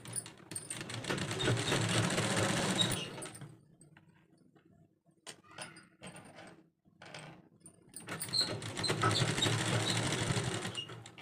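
A sewing machine stitches binding tape onto the neckline of a simple kurti, running in two steady, close bursts of mechanical whirring with a quieter pause between them.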